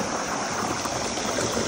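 Water from a village pump motor pours over a man's head, a continuous rushing splash that stays close and even for the short stretch.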